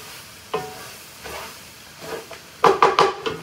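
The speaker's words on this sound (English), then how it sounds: "Listen to the sizzle." Deer meat, onions and roux sizzle and get stirred in a pot, with short scraping, hissing bursts that grow louder and closer together toward the end, heard alone without talk.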